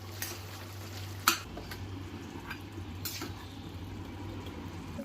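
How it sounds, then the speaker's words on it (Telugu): Chicken being stirred with yogurt in a pan, soft scraping and gentle sizzling with a few louder clinks of a utensil against the pan, steady and close with no talk. "పెరుగు వేసి కాస్త అటు ఇటు తిప్పి"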